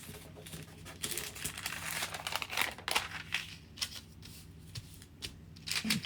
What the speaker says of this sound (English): get a piece of parchment paper.